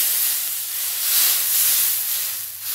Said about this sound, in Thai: น้ำกะทิ1ลิตรค่ะใส่ลงไป